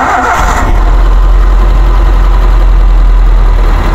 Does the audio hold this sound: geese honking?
no